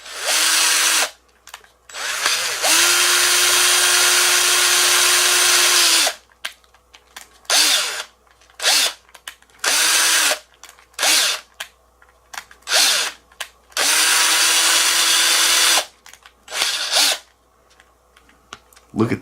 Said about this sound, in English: I'm able to hold this thing in my hand while I drill it.